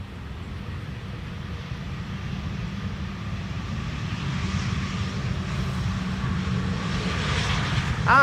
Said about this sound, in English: KLM will fly A737-800 in.